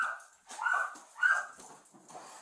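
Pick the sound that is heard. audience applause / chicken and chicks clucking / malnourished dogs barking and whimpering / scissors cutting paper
malnourished dogs barking and whimpering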